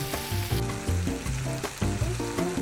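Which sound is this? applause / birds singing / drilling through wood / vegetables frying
vegetables frying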